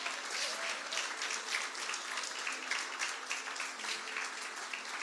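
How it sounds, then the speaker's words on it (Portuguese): A church congregation applauds, a dense, even wash of clapping from many people, soft and somewhat distant, going on without pause. "Você pode aplaudir a Jesus."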